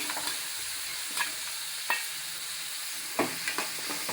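Tomatoes and meal maker soya chunks fry in a pan while a spoon stirs them, a close, steady sizzle punctuated by several scraping knocks against the pan at uneven intervals, with no voices.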